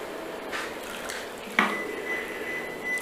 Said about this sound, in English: So I will have to pour in this into the water.